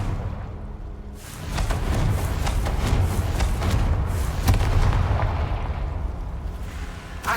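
Confringo blasting spell in the video game Hogwarts Legacy: a loud, booming explosion with a heavy thud and crackling burst that rumbles on for several seconds.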